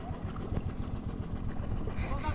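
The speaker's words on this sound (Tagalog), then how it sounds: "Meron nagbaba dito sa Peaceport ngayon, isang bangka." A motor boat's engine idles steadily as it arrives at a small port, a low, continuous rumble with voices talking over it throughout.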